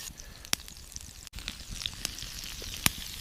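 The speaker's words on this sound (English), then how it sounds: "Basting the steak in butter with garlic and thyme increases the flavor" Steak sizzles in a pan while being basted with butter, garlic and thyme, a soft steady crackle and hiss with a few sharper spits and pops, fairly quiet and close, with no talking.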